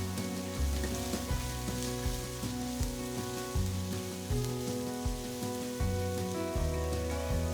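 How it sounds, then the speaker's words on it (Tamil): Steady crackling sizzle of chopped onions frying in hot oil with mustard seeds, continuous and fairly close, with faint stirring clatter and low background hum; no talking. "கடுகு பொரிஞ்சதும் ஒரு பெரிய வெங்காயத்தை நல்ல பொடிசா நறுக்கி சேர்த்துக்கலாம்"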